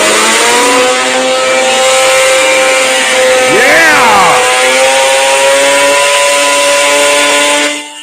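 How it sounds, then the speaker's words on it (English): A buzzy, chainsaw-like car engine revs hard and high, climbing and falling in a quick sweep midway, then holding a loud, rasping drone before cutting off abruptly. "it's the sound of a chainsaw"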